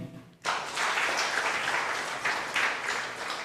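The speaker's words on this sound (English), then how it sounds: "And an exceptional round of applause to the First Lady" A crowd bursts into applause for the First Lady at an official results-release ceremony, a dense, steady wash of clapping that starts abruptly and carries on loudly to the end.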